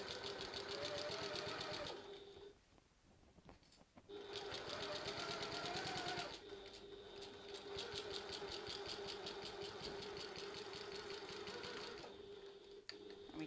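A sewing machine stitches a tote bag in long steady runs, its motor whirring with a fast rhythmic needle clatter, pausing briefly before resuming, close and clear with no talk.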